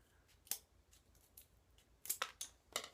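Scissors snipping off the edge of a piece during a glue-and-cut room decor craft, a few sharp close clicks spaced irregularly, with a quick cluster of snips near the end, in a quiet room.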